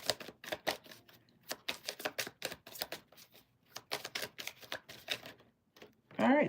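Tarot cards being shuffled by hand produce a rapid run of crisp, close taps and snaps in uneven bursts, with short pauses between shuffles.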